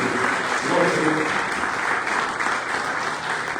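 A church congregation applauds at a Mother's Day service, steady, dense clapping from many hands filling the room without a break.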